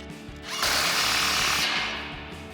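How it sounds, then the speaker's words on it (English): Power tool driving a 16 mm socket to tighten an exhaust clamp on a RAM 1500, one loud, close whirring burst of about a second that winds down, with no talk over it. "Now we can slide our clamp into place and tighten that down with that same 16mm socket."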